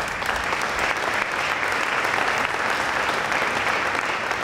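Sustained applause from an audience at a high school senior sports awards event, a dense, even wash of clapping that fills the room without pause.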